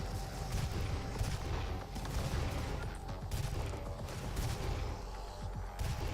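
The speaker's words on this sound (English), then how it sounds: "Rocket launchers." Rocket launchers firing in the video game Rage Room, dense continuous explosive barrage with rumbling booms throughout, steady and loud without a break.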